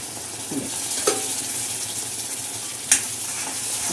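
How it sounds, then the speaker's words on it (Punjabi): Chickpeas added to fried masala in ghee in a home kitchen: a steady close sizzle and frying hiss, with a couple of brief clinks or stirring knocks, no voices. "ਹੁਣ ਆਪਾਂ ਇਹਦੇ ਵਿੱਚ ਪਾ ਦਾਂਗੇ ਛੋਲੇ"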